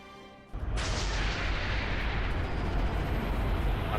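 In Halo 3 multiplayer, a massive glassing beam hits a Covenant bomb and sets off an explosion that erupts into a loud, sustained roaring blast lasting several seconds.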